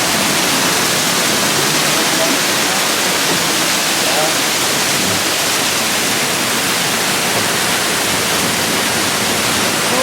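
A waterfall on the Calico Mine Train ride, seen from behind the falling water, pours as a loud, constant broadband rush that fills the whole stretch without pause.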